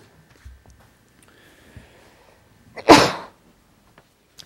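During a planning board meeting, one sudden loud sneeze sounds from someone nearby in a quiet room, with faint background noises before and after.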